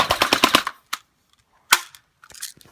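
Airsoft gun firing, a rapid burst of about six sharp cracks, then a few single shots separated by silence, loud and close, with faint handling noise at the end.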